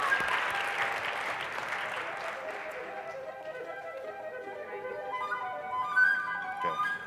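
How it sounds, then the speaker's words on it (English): Conference audience applause bursts out loudly, then thins into scattered clapping as a voice or tone carries over the fading claps. "All right, a round of applause, everybody."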